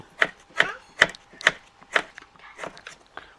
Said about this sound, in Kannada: ಉಪ್ಪಿನಕಾಯಿ ಕಟ್ ಮಾಡ್ತಾ ಇದ್ದೀನಿ